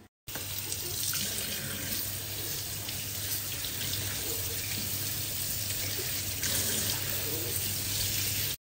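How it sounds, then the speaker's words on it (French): Running tap water pours steadily over strawberries and raspberries being rinsed in a kitchen sink, a continuous close splashing hiss that lasts the whole stretch. "On va rincer maintenant les petites fraises et les framboises."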